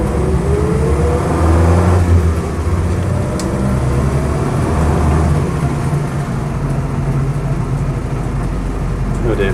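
A Land Rover Series III 88in hardtop pulls away and drives on at a decent pace, its engine a steady, loud drone heard from inside the cabin, with constant road and wind rumble.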